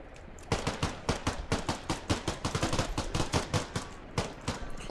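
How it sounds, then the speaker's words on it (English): Hip-fired gunfire in the tactical shooter game Squad comes as rapid, fairly close bursts of sharp shots in quick rhythmic succession, with short pauses between runs. "I was hip firing and I was hitting them."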